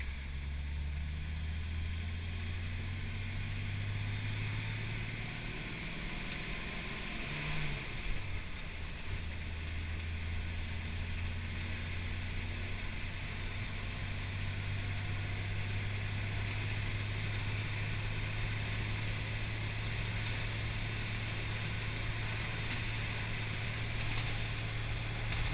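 A 1925 Hudson Super Six seven-passenger phaeton drives along in third gear, its engine a steady low drone with continuous road and wind rush around it, unbroken for the whole stretch.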